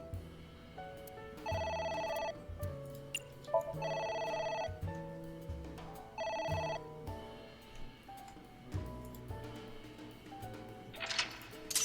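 Telephone ringing in the video game AI: The Somnium Files, a repeated electronic ring in several bursts with short pauses between them, set against a background music bed.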